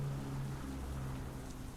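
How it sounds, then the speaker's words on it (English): Steady rain falls in a WWII hex-based wargame, a dense continuous hiss with low rumbling hum underneath, loud and unbroken for the short stretch, no voices. "It's raining."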